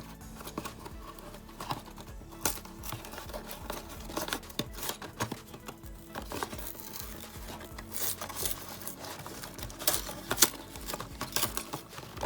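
Brittle cardboard of a sealed 1994 LEGO Islanders King Kahuka set box being cut and torn open, with irregular close scratching, tearing and crinkling bursts and no speech.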